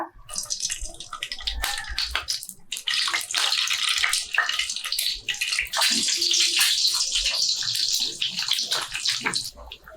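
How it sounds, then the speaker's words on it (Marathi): Eggs frying in hot oil in a pan, a dense hissing sizzle that swells and holds steady, with small crackles and pops throughout. "तेल तापलंय आता त्यामध्ये ही अंडी ठेवून घेऊया"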